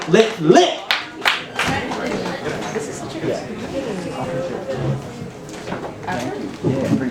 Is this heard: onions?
no